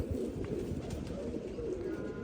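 Pigeons coo in a low, steady murmur on a rooftop, the soft burbling going on without a break and no voices over it.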